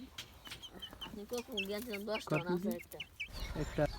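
A chicken clucks close by in a run of short, throaty calls that rise into a busier burst midway, with faint background noise around it.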